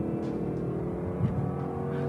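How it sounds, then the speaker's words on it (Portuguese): Stock-exhaust V8 of a Ford Mustang Mach 1 holding steady revs, a deep continuous burbling drone heard from a distance at fairly low level, with no voices. "Esse ronco, girando essa rotação. Escape original aqui, cara, escape original."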